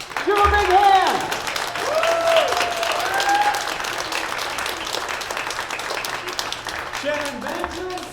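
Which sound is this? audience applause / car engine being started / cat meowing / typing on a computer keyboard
audience applause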